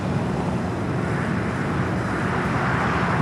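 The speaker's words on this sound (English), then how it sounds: "Number 2 for arrival is Delta Flight 88 coming in from Hong Kong." A Delta Airlines Airbus A350-900 jet arrives at Los Angeles airport, a steady, broad engine roar holding level throughout.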